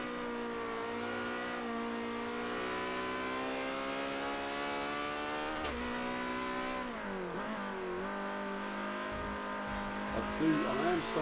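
A race car engine in the video game Forza 7 holds a sustained high-revving drone that dips and climbs through gear shifts, steady and close, with a brief tire scrub near the end.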